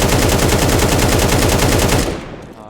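A rifle in the video game CS2 fires a sustained full-auto burst, rapid evenly spaced loud shots for about two seconds, then cuts off into a short fading echo.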